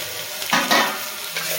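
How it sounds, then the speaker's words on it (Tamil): Onions sautéing in a pan for a South Indian kohlrabi kootu, giving a steady soft sizzle with a couple of brief louder stirring scrapes near the start and another toward the end. "வெங்காயம் வந்து நல்லா வதங்கட்டும்"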